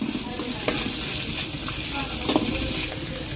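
Onions sautéing with salt in a pan for egg rice produce a continuous close sizzle with occasional soft stirring scrapes and clicks, with no speech heard.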